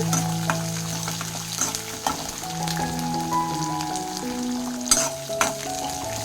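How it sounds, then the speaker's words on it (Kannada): Ingredients for paddu chutney frying and being stirred in a pan, a steady close sizzle with scraping stir strokes and occasional clinks, no voices. "ಒಂದು 5 ಮಿನಿಟ್ಸ್ ಸ್ವಲ್ಪ ಚೆನ್ನಾಗಿ ಫ್ರೈ ಮಾಡ್ಕೊಳ್ಳಿ"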